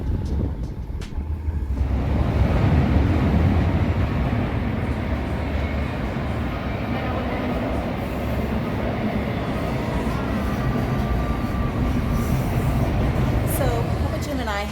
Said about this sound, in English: a train showed up and it's going right behind the restaurant